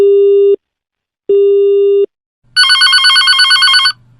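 Telephone call to a switched-off phone: two loud, even busy-signal beeps with a pause between, then a louder warbling electronic tone, no talk.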